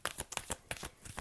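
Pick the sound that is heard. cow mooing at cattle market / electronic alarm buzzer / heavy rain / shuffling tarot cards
shuffling tarot cards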